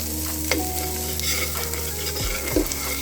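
Ginger, garlic and onion sizzle steadily as they fry in a pan, with a spoon stirring and scraping through them in a few distinct strokes, close and continuous.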